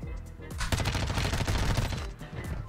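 A rapid burst of automatic gunfire rattles in Call of Duty Warzone on Ashika Island, dense and continuous for about two seconds before trailing off.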